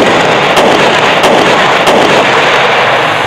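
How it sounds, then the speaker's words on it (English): Gunfire from blank-firing revolvers in cowboy mounted shooting: loud, dense noise with three evenly spaced sharp shots standing out at roughly half-second intervals, no voices. "The chilling sound of gunfire is frightening, but it's all part of the game."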